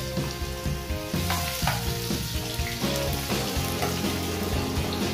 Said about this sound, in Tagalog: Unahin ko muna ang susutay ang vegetable niya guys